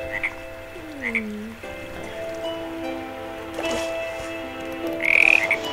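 Frogs croak in a Minecraft Hexxit modpack game, several short, loud calls spaced out over a few seconds against a faint ambient background, one bending in pitch.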